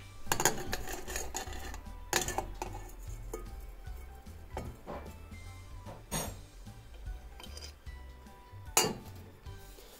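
A chisel clinks and scrapes against a cinder block and a titanium Victorinox knife scale as it fishes the scale out of oil, giving a run of sharp metallic taps and clatters at close range.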